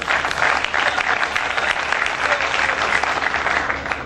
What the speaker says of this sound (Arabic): صفقوا عشان ركز.